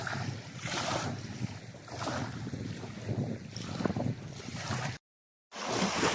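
A breezy wind buffets the microphone at the water's edge, a steady rough roar with gusts and lapping water beneath, cut by a brief gap near the end.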